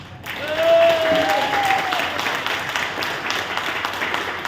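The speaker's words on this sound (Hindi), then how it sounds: "आप तो दोनों हाथों से अपने लिए ताली बजाओ।" An audience at a business seminar in Thailand claps steadily, a dense, sustained wash of applause at close range that fades slightly toward the end.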